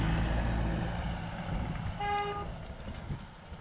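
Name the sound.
vehicle horn honking on Nepal mountain road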